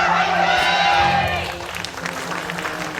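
A large audience cheers and applauds at a StarCraft GSL Super Tournament final, a loud roar that swells briefly and then fades to a softer crowd murmur within a couple of seconds.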